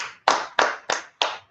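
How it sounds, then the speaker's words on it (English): An audience claps in unison at a religious gathering, five sharp, evenly spaced bursts of clapping, loud and close, each fading quickly before the next. "Let's clap it up for Yahweh Shai"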